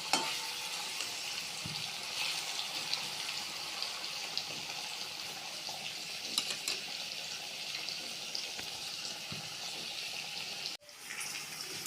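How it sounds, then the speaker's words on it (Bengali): Paneer cubes frying in a wok give a soft, steady crackling sizzle throughout, fairly quiet and close, with a brief clatter and pause near the end and no one speaking. "পনিরগুলো ভাজা হয়ে গেছে"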